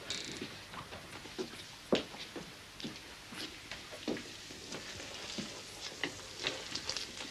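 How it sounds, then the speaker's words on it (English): Steak and mushrooms fry in a pan, giving a steady close sizzle with scattered crackles and pops throughout, with no talk over it. "just some frying steak and mushrooms"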